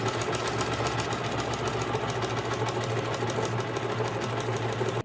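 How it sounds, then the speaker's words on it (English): Sewing machine stitching down the casing of a puffed-sleeve summer dress, a continuous close mechanical whir with a steady rhythmic hum and rapid needle chatter, heard alone without talk. "I'm just gonna sew this down"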